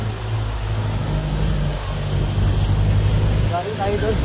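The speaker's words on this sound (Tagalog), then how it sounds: "Truck." A truck passes along a rural road where riders are out, its low engine rumble steady and fairly close for several seconds before easing off, with wind and road noise over it.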